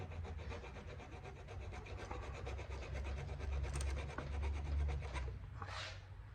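Filing a groove into soft weld on a carburetor part, a faint, quick rasping scrape repeated in a fast steady rhythm over a low background hum, close but quiet with no talking.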